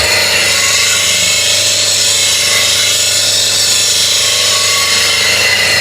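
A woodturning tool grinds against a spinning CBN grinding wheel, a loud, continuous hissing rasp over a steady motor hum, held without a break for several seconds.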